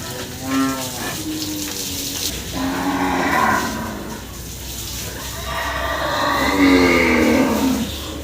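Several bulls moo in turn at the Gabtoli cattle market, deep drawn-out calls near and fairly loud, overlapping with a busy background murmur.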